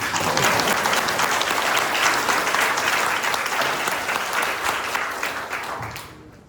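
An audience at a residents' briefing on a redevelopment project breaks into loud, dense clapping that holds steady for several seconds, then thins out and fades away at the end.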